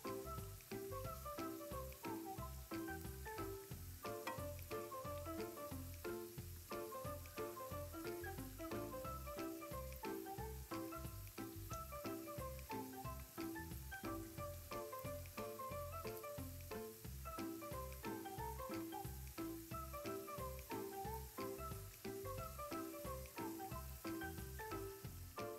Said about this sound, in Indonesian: Goreng kue ketawa atau kue onde ketawanya sampai matang menjadi kecoklatan.